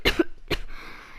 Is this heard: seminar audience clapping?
no